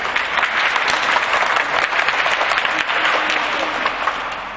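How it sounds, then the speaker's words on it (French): Classroom of pupils clapping for a classmate during a guided visit, dense sustained applause filling the room at fairly close range, steady throughout with only slight fading at the end. "On va applaudir votre ami. Un peu plus fort,"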